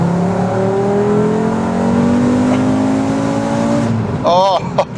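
A VW Golf VR5 with a non-turbo engine and manual gearbox revs hard and loud, its rising drone climbing steadily through a gear before easing off, heard close.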